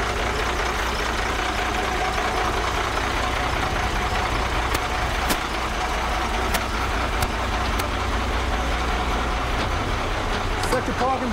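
A Class B truck's engine idles and rumbles steadily nearby, a continuous low drone with a few sharp clicks, while someone talks over it.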